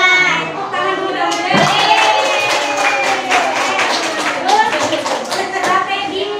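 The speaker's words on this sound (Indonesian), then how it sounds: "Tepuk tangan dulu dong" A room of teachers breaks into a burst of clapping that begins sharply and continues as rhythmic applause, with voices and chatter mixed in among the hands.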